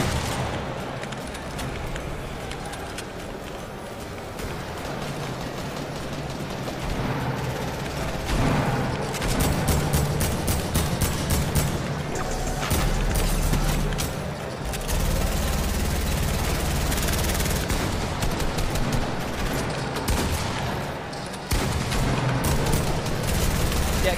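Fortnite gameplay erupts in dense gunfire, with rapid bursts of shots, booming impacts and continuous loud action sounds building in the second half, while players chat briefly in the background.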